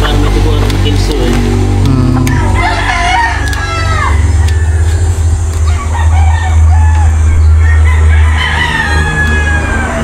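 Roosters and chickens at a Matabungkay farm crow and cluck loudly and close by, with repeated crowing calls over constant clucking and a low background rumble.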